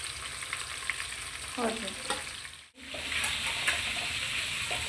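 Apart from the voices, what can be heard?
frying in oil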